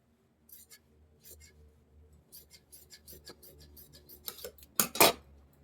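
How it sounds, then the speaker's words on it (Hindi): Scissors snip through kurti sleeve fabric in a series of short, crisp cuts, sparse at first and then quicker, ending in two louder close snips, with no talking. "ये मेरी स्लीव्स की भी कटिंग हो गई"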